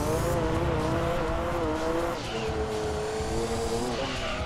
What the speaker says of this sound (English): in first gear it just spins